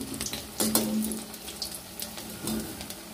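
Flat beans coated in batter fry in hot oil, giving a steady soft sizzle with a few brief clatters of handling; no one speaks.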